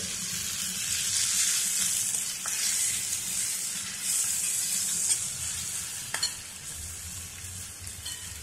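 Tomatoes sizzle and fry in a garlic tempering for dal, with a steady close hiss of hot oil and occasional stirring scrapes and clinks throughout.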